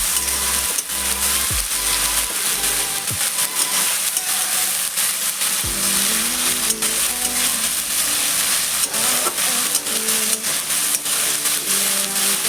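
Garlic paste with ginger and green chili paste frying in a pan, a loud steady sizzle and crackle lasting throughout with occasional stirring scrapes, close up, no voices.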